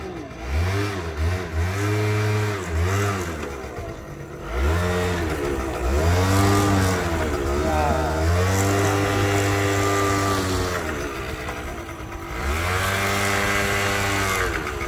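A motorcycle engine revs hard in repeated bursts, rising and falling in pitch with strong harmonic whine, loud and close, with short drops between throttle blips.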